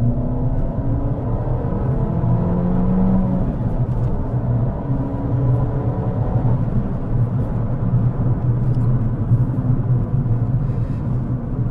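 A 1.4 litre turbo car engine drives along with a steady, continuous low rumble and drone that holds at an even level throughout, with no talk over it.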